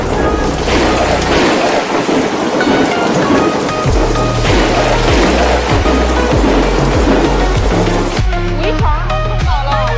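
A powerful storm with rolling thunder and heavy rain pounding down, loud and continuous, with deep rumbles and repeated low booms throughout and no talk.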